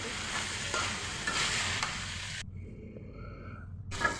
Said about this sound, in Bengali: মরিচ ভাজা হয়ে গেলে একটু ভাজিটা নেড়ে দিচ্ছি